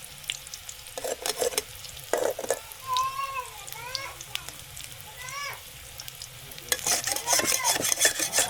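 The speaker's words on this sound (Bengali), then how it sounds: "মসমসে মসমসে কচুর বড়া তৈরি করে নেওয়া হচ্ছে" Taro fritters crisping in hot oil, with a steady crackling sizzle and stirring that grows busier toward the end, while a voice speaks briefly over the cooking in the middle.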